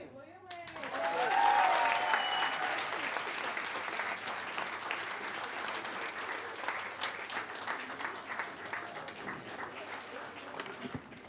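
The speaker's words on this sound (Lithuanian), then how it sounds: "Plojimai." A theatre audience applauds at the close of a talk, a dense, sustained roar of many hands clapping that swells early and holds steady for about eleven seconds, with crowd voices mixed in.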